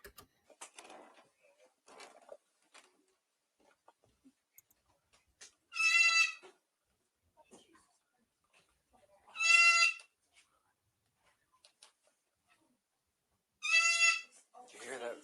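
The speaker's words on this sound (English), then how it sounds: "You're also going to hear something scream here. It's a bird." Three loud, harsh, drawn-out screams from a bird, each about a second long and spaced several seconds apart, heard outdoors over faint scattered clicks and distant sounds.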